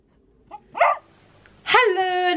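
Dogs in a four-dog household bark nearby: a couple of short yips, then a sharper bark and a loud, drawn-out howling bark at the end, with quiet gaps between.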